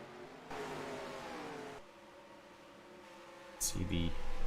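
Race cars pull away off pit road in a stock car racing game at Kansas, engines whining and revving at mid distance, with a sharp rising burst near the end; talk runs over the engine noise.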